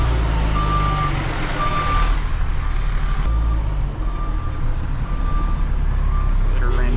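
A work truck carrying a pole-drilling auger backs into a park field. Its reversing alarm beeps at an even pace over a deep, rumbling engine idle, with a brief hiss midway.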